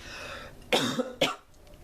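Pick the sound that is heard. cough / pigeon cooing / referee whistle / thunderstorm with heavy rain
cough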